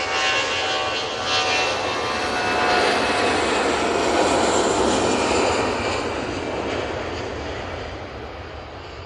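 KLM airliner jet engines at Manchester Airport, a loud, broad roar that holds steady for several seconds and swells slightly toward the middle, with no talking.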